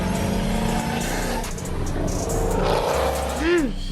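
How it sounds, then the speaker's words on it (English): A supercharged Jeep Trackhawk engine revs up near the end, a sharp rising and falling roar over a busy background of music and talk throughout. "and of course a supercharged engine,"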